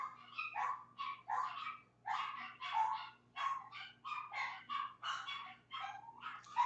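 Several dogs bark repeatedly in quick, overlapping bursts, an excited and continuous chorus of yips and barks.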